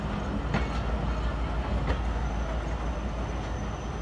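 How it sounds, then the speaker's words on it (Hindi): CNR passenger coaches of the Hazara Mail rolling past at a railway station on a rainy day: a steady, loud rumble with periodic wheel clacks, close by. "ये जा रहे जो CNR कोच हमारी हैबर मेल का"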